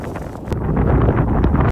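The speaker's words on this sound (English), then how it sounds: "The weather was very windy" Strong wind at a monument in Mongolia buffets the microphone in steady, roaring gusts, loud and close throughout with no voices.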